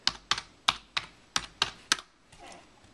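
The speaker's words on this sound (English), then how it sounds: "I'm typing with one hand" Typing on a computer keyboard with one hand: about seven crisp, separate keystrokes in an uneven rhythm, close and fairly quiet, with no talking.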